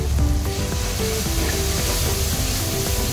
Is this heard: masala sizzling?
yes